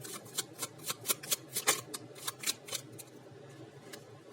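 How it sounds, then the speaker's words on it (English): Tarot cards shuffled by hand during a love reading, giving a quick run of soft, papery riffles and flicks in an uneven rhythm, close and fairly quiet with no talking. "if you don't want to see the shuffling, you can always skip ahead"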